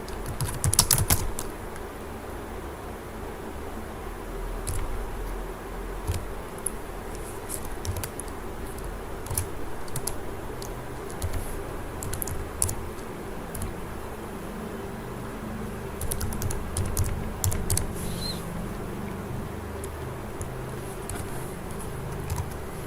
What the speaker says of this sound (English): Here I will type contacts.